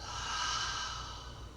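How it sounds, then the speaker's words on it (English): A slow, steady breath drawn in through the nose and let out through the mouth during a guided relaxation class, soft and close, with no talking over it. "Take a breath in through your nose and exhale out of your mouth."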